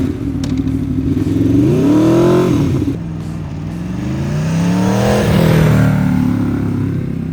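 An Aprilia Tuono V4 motorcycle with a titanium AR slip-on exhaust fires up and revs loudly and close, its engine note rising and falling through two strong swells with a rough, rumbling idle between them.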